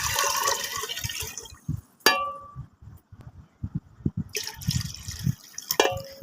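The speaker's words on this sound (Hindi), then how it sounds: "तो हमने ना इसमें पानी डबल ऐड करना ताकि हमारी अच्छे से तैयार हो।" Water pours and splashes into a metal cooking pot holding a gram flour and buttermilk mixture for kadhi, with clanks of the pot and drips between quieter gaps.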